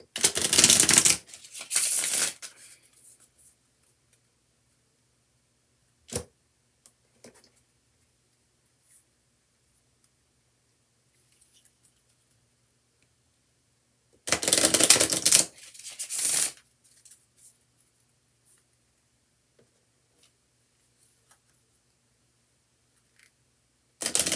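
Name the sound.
shuffling tarot cards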